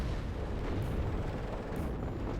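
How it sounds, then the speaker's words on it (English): Dense, continuous rumble of tank gunfire and explosions from T-72s in the WARNO war strategy game, booms packed tightly together into a steady heavy roar with no pauses and no voices. "Jaeger taking a lot of fire from the T72s up here."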